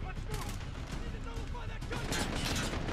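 Dense, continuous gunfire from a Modern Warfare campaign played on Realism difficulty, with rapid bursts of shots running loud throughout and a voice talking over them.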